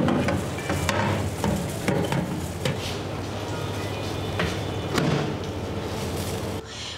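Potato wedges are set one at a time onto the plate of a Samsung smart oven for slim fry cooking, producing a series of soft, irregular taps and clinks close by over a quiet room hum.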